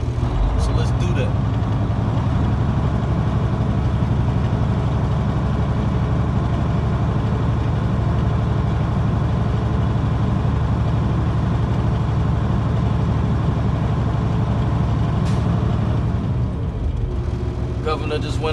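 A truck engine revs steadily to build air brake pressure toward 120–140 PSI, a loud continuous low drone held for most of the stretch before easing off near the end as the governor cuts out, with a sharp air release.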